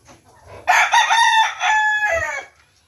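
A Rhode Island Red rooster crows once, loud and close, a drawn-out two-part call with a few soft clucks around it from the flock.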